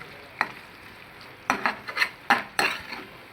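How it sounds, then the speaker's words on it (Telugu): A spoon scrapes and stirs masala in a cooking pan, several quick clattering strokes with a light sizzle underneath, close and fairly quiet, no voices. "మసాలా వేసి బాగా కలబెట్టాలి"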